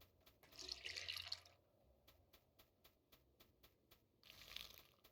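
Plants are watered in the farming game Sun Haven, with two soft sprinkling splashes separated by a run of faint, regular ticking steps, all very quiet with no voices.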